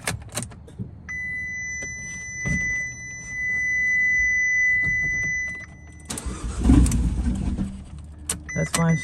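A rebuilt car engine starts for the first time: a starter whirs, then the engine cranks and catches with a loud, rough burst of low rumble, preceded by a steady electronic chime inside the car.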